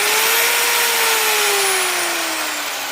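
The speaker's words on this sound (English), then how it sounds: "It's a Chicago Electric 7-inch sander polisher." A Chicago Electric 7-inch sander polisher runs with a steady, loud motor whine that dips slightly in pitch as it keeps spinning, heard alone and close.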